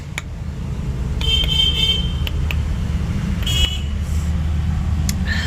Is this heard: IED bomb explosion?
no